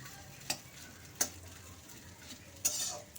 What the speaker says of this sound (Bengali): চিনিটা দিয়ে খুব ভালো করে নাড়াচাড়া করে এভাবে মিশিয়ে নেব।